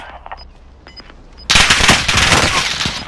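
Call of Duty: Warzone gunfire: a second of quiet game ambience with faint beeps, then a loud, sustained burst of rapid automatic fire that continues to the end.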